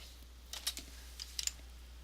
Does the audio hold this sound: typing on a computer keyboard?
yes